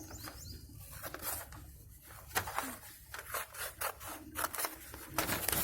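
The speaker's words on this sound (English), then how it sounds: "So I am cutting this one. I am cutting this one." Scissors snip through a paper net for a box in a maths worksheet activity, giving a series of close, crisp cuts and rustles, some sharper than others, with no voices.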